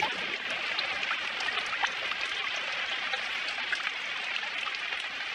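Heavy rain in a cartoon scene, a dense, even patter of drops hitting surfaces, constant hiss with scattered sharper splats throughout, no voices.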